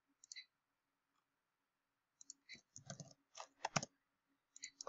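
Quiet clicks from a computer mouse arrive in a few scattered bursts, with single and double clicks separated by silence, close and dry with no talking.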